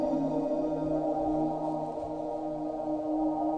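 A synth part time-stretched five or six times and drenched in reverb forms a sustained, droning ambient pad with a slow, washed-out tonal swell that hovers steadily throughout without any voices.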